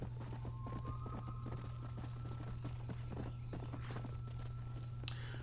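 Horse hooves in Red Dead Redemption clip-clop in a quick, steady rhythm at a walking or trotting pace over a constant low hum, faint throughout, with no talking.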